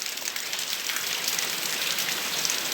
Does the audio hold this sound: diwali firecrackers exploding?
no